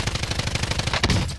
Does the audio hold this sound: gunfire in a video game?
yes